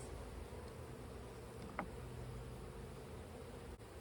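Honey bees buzz around an open hive during a swarm-prevention split, a faint, steady hum of many insects close by with a soft rustle and one brief knock, no voices.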